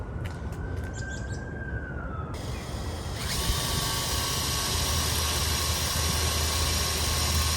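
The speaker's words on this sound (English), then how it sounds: "I just drilled a pilot hole" A pilot hole being drilled for a quarter-inch bolt on a portable winch mount, a loud continuous power-drill whine that starts after a brief quieter lead-in and holds steady close by, with no talk.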